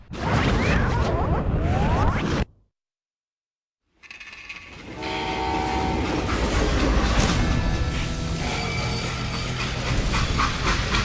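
A moving freight train in the Western video game Call of Juarez: Gunslinger: a steady, loud mechanical rumble with clanks and rattling, broken by about two seconds of silence before it resumes.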